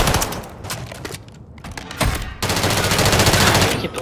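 Rapid automatic gunfire in a first-person shooter ranked match, loud bursts and sustained rattling volleys filling most of the moment, with a brief lull near the middle before heavier continuous firing resumes.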